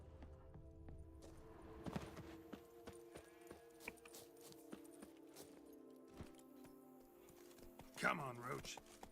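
Roach the horse trotting in Witcher 3: Blood and Wine, soft rhythmic hoofbeats clopping under background music, with a brief louder sound near the end.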